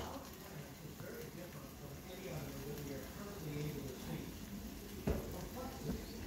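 Eggs cooking with bitter gourd and sardines in a covered pan, a soft steady sizzle with occasional light clinks and taps, fairly quiet throughout.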